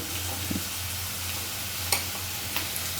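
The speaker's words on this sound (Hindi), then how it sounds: "ये हल्का हल्का प्याज सेक लिया हूँ।" Onions browning in a pan after salt and turmeric are added, a steady soft sizzle with a couple of brief clinks or scrapes, close and fairly quiet with no talking.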